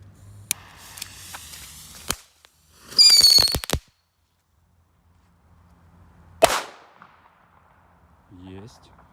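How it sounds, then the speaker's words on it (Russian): A Korsar 4 Black Death firecracker fizzes with sharp crackles, lets out a brief rising whistle, then goes off in a single loud bang after a short pause, followed by a brief voice. "Петарда с эффектом. Давайте поджигаем и будем смотреть эффекты и взрыв."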